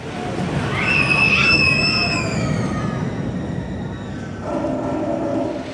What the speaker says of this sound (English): Just got off of a back row D-train ride on Nitro